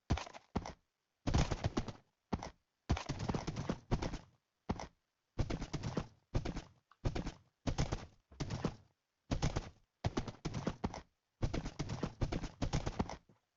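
Bursts of rapid hoof clip-clops come in short, evenly spaced runs separated by brief silences, with a crisp, synthetic quality.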